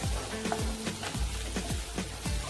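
Chopped onion sautéing in a pan until pink for a Maharashtrian drumstick-leaf vegetable dish, a steady soft sizzle with repeated scraping stirs of the spatula roughly every half second, close and moderately quiet.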